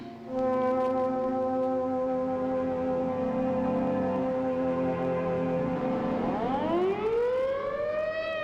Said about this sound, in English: the siren sounds once more